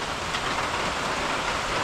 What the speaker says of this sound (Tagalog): Sa tindi ng ulan.